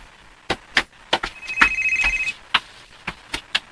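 A telephone rings with repeated electronic chirps and a sustained tone, loud and close, announcing an incoming call, with no voices.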